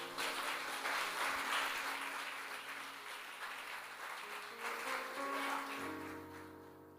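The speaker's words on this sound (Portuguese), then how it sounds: "Você que pode, aplaude o Senhor," Church congregation applauding together, a steady wash of clapping that fades gradually, with a soft sustained tone from instruments underneath toward the end.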